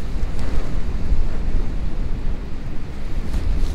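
Strong, cold wind sweeps across a reservoir during ice fishing, with a low, continuous roar buffeting the microphone up close and no voices.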